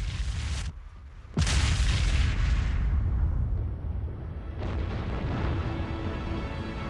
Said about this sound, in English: Finally, the star collapses